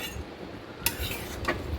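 A plate used as a lid comes off a cooking pot with a sharp metallic clink, and a second lighter clink follows. Both sit over a faint kitchen background with no talking.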